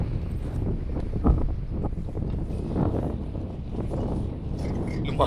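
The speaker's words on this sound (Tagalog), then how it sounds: "Kasi sobrang lakas ng hangin" Strong wind buffets the microphone at a hilltop viewing deck overlooking Pantabangan in Nueva Ecija, a steady loud rumble with gusty surges and no speech.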